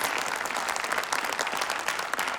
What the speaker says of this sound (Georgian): აპლოდისმენტებით გავაცილოთ მაცაცო და რატი.